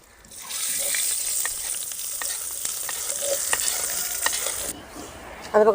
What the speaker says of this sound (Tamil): பெருங்காயத்தூள் நல்லா பொரியணும்.